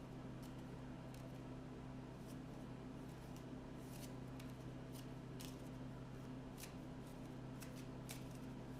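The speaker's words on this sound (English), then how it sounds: "I need to reshuffle and then discard cards until I see a minion." A deck of playing cards shuffled for a Marvel Champions card game, a string of quiet crisp riffles and flicks in short irregular bursts over a low steady hum.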